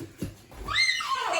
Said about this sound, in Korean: 말